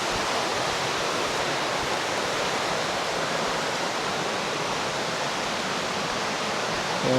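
Waterfall at Tagbanakaw Falls in Maco, Davao de Oro, roaring in a steady, dense rush of falling water that holds evenly from start to end with no voices.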